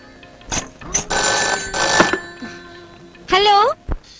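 A telephone rings in bursts indoors, its bell tone broken by a voice speaking over it and a few bumps, close and fairly loud.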